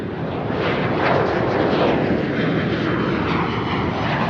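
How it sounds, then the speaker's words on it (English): A jet aircraft roars past in a sound design demonstration, a loud, steady broadband engine rush that swells slightly mid-pass and holds without any voices. "we've got our jet here"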